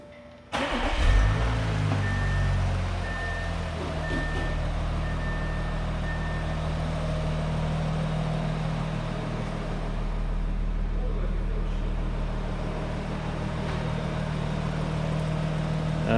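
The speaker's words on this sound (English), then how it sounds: "the car starts." An Audi A6 or A7 engine is started by remote, cranking and catching near the start, then settling into a steady low idle that continues at close range with no talk.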